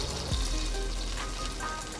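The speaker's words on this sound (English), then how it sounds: "I'm going to try to make the fish skin a little bit crispy on that side" Salmon skin frying in hot oil to crisp it, a steady close sizzle and crackle with scattered spatter pops running throughout.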